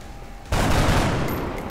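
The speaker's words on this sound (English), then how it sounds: "it looks like an Overwatch shot just drains the ammo on the SMG" A sudden burst of video-game gunfire from XCOM Enemy Within's Long War mod, likely an SMG overwatch shot, erupts after a brief quiet and holds as a loud, dense crackle to the end.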